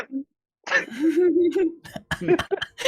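A few rough coughs and throat-clearing noises close by, with voiced sounds in between.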